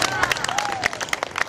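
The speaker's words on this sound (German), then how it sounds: "Vielleicht ist das mal ein Applaus wert." A crowd claps and cheers in a short, dense burst, with scattered sharp claps over a steady background of voices.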